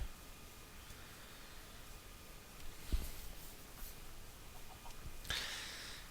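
A chicken in the game Minecraft clucks faintly under low background hiss, with a sharp hit and a few short sounds scattered across the stretch.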